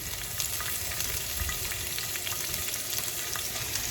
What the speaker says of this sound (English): I'm going to throw some green pepper in here.